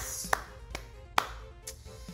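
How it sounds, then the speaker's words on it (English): A few sparse, separate handclaps ring out, sharp and fairly close, spaced irregularly over a quiet background with no talking. "give yourselves a round of"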